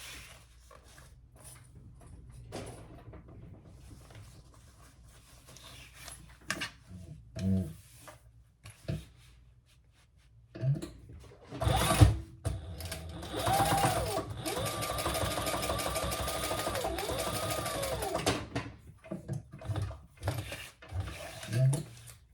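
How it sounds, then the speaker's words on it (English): A sewing machine top stitches the gusset of a canvas messenger bag, starting with short hesitant bursts and handling noises, then a long steady whirring run of rapid stitching up close before stopping. "Now we're going to turn those wrong sides together and top stitch."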